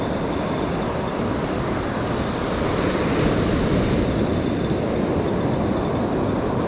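Ocean surf breaking at a beach where someone is fishing, a steady loud wash of waves and wind with no pauses, close to the microphone throughout.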